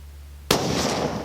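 A single sharp, loud gunshot from a Remington 722 rifle in .222 firing a test load cracks out after a quiet moment, followed by a long, bright, echoing decay.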